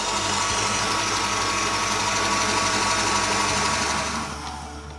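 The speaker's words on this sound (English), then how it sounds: "That's the 6 egg whites, and we're going to beat it till it's nice and stiff." Six egg whites being beaten until stiff with an electric mixer for a chocolate mousse, a steady loud motor whir running close and continuous, then easing off near the end.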